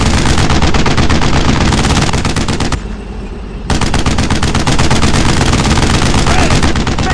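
Loud, close machine gun fire in the World War II video game Brothers In Arms: Road To Hill 30, a dense stream of rapid shots that drops out for about a second before resuming just as fiercely.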